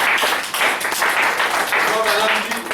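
A church congregation applauds, with dense, loud clapping that fills the space and holds steady throughout, while voices rise over it.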